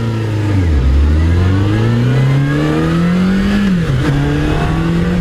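A 2018 Harley-Davidson Street Bob engine revs up loud and close, rising in pitch, dipping briefly, climbing again, then dropping away at the end.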